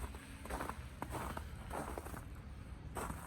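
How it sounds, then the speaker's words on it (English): Soft crunching footsteps in snow, a steady walking rhythm of muffled crunches close by, fairly quiet with no voices. "it's snowing. You can hear it, my boots."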